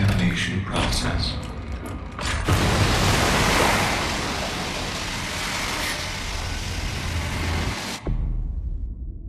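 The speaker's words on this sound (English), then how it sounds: "Some poorly rendered water came out of the sky." Heavy water spray pours down during a decontamination sequence in a video game, a loud, dense hiss that starts abruptly after brief sounds, holds steady for several seconds, then cuts off sharply.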